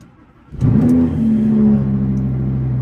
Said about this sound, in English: And that is a cold start.